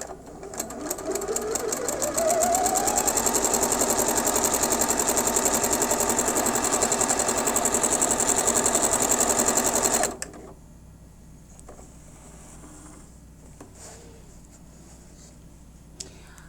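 A sewing machine with a closed straight-quilting presser foot and seam guide stitches a cross seam for quilting, running fast and steady for about eight seconds before stopping abruptly into near quiet.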